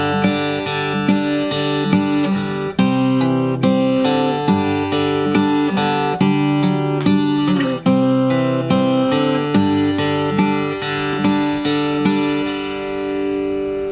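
Acoustic guitar played fingerstyle in a steady piano-like rhythm, bass notes alternating with two-note pinches, bright plucked tones ringing close and clear with no talking.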